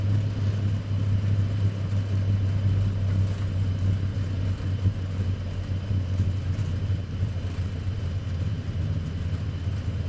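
Steady, loud low roar of Airbus A321 engines in reverse thrust after touchdown at Heathrow in a flight simulator, a continuous rumble with no voices over it.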